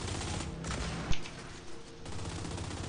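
Gunfire in Gears 5 rattles almost without pause in a dense, loud barrage, with one sharp heavier shot standing out in the middle and no talk over it.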